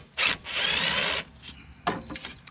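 A power tool drives Torx screws on the intake manifold of an 8HP Tecumseh engine on an MTD snow blower, with one loud whirring burst of about a second followed by a brief second spin, close by.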